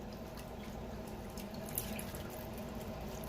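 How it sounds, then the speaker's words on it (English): Hot tap water runs in a steady, close hiss as meat is rinsed in a pot while cooking a big batch of egusi soup, with no talking. "I'm going to rinse it out again with hot water because of all this blood water."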